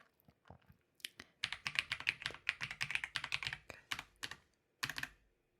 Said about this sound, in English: I can type your email whenever you're ready.